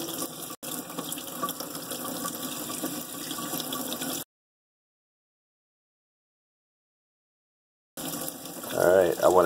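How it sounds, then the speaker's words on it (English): Hot water runs steadily from a tap in a Forest River Wildwood X-Lite travel trailer, a close, hissing splash that cuts out for a few seconds, then returns with a louder gurgle at the end. "That's hot water coming out"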